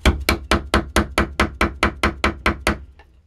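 Mallet striking a rammer to pack powder into a spolette fuse tube, about a dozen sharp, evenly spaced knocks close up, fading at the end, with no voices.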